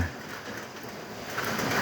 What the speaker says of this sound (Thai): ฝนลงเม็ดน้อยๆเนาะพี่น้องเนาะ